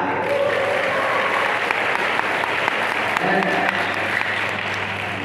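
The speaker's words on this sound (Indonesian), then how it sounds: "Tepuk tangan buat kapten kita." A group applauds for the captain during a classroom role-play: a steady, continuous wash of many hands clapping, fairly close, with a low hum beneath and faint voices mixed in.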